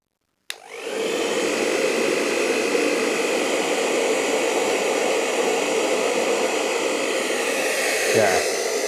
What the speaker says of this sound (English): I'm just going to pop the hairdryer on just to drain the battery a little bit more